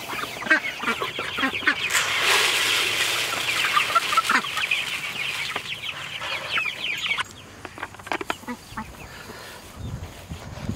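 Chickens (meat birds) cluck and chatter steadily nearby, with a few honking calls from Khaki Campbell ducklings mixed in. The flock grows quieter toward the end, and there is no talking.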